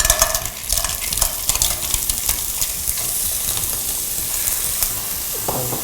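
Striped clams stir-fry in a hot pan for Thai-style drunken spaghetti, with a steady sizzle and hiss broken by sharp scraping clatters from the spatula, and no voices.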